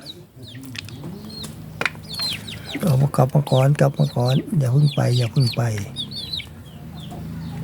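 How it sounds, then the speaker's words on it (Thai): Chickens clucking as they are fed, a run of loud close clucks in the middle with softer clucking around it, mixed with a person talking. "อิ่มแล้วมาขุนข้าวไก่"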